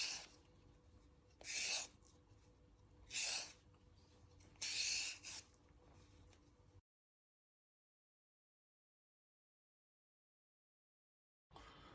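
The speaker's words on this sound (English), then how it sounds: "you're just going to keep peeling them so you've got nice little ribbons" A vegetable peeler scraping carrots into thin ribbons, four or five short rasping strokes close by against a quiet room, followed by a stretch of silence.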